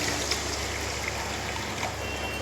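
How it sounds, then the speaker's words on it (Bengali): Water poured into a pan of paneer posto, a steady trickling stream with a faint sizzle under it, continuous and close for the whole moment. "এবার দেখো সামান্য পরিমাণে জল দেব"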